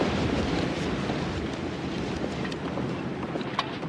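Strong wind gusts steadily in an open outdoor setting, a loud, constant rushing roar with buffeting against the microphone, no voices present.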